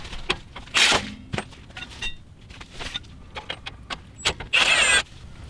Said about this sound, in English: get this nut off here for the lower control arm so we can completely remove it